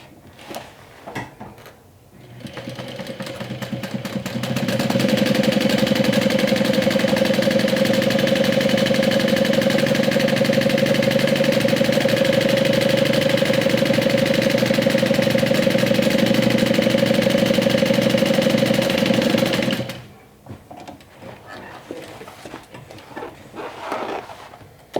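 A sewing machine top stitches the lining of a swim tote, running in one loud, steady, continuous hum for about fifteen seconds, with quiet handling noise before and after.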